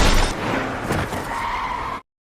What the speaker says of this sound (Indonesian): tiba-tiba sebuah mobil melaju dengan cepat dan menabraknya